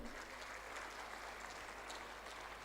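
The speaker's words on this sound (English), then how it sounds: "wish that a very big round of applause happens for him." Audience applause at the ICSI Yuvotsav 2023 event, a continuous wash of clapping heard faintly and at a distance, steady from start to finish.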